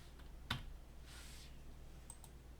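A few quiet, isolated clicks of keys on a computer keyboard, sparse and irregular, against a faint low hum.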